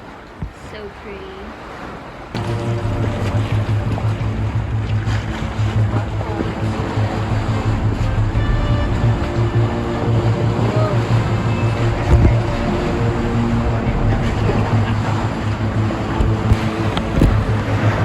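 A tour boat runs on the sea near James Bond Island off Phuket, Thailand, with a loud steady engine drone, wind buffeting and water rush that starts abruptly after a quieter opening, while people talk.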